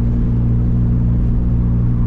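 Turbocharged VW Gol idling and pulling away, a steady low engine rumble with a droning, even tone, close and loud, with no voices over it.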